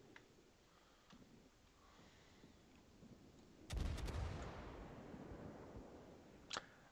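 Ship guns fire in the naval combat video game World of Warships: a muffled booming salvo lands midway and rumbles away, followed by one sharper shot, over a low background hum.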